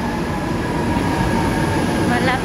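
An MRT commuter train bound for Baclaran rolls past nearby, a steady loud broadband rumble of wheels and rail noise with a faint high whine, continuous throughout.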